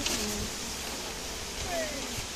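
Dense buzzing from a mass of honey bees rises out of an open hive as frames are lifted, a loud continuous drone that fills the scene.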